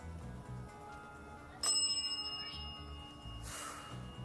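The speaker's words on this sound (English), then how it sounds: "would you be able to come up and ring the bell just once?" A single bell rung once inside a room on the Queen Mary ship, a sharp bright strike that rings out and fades over a quiet background.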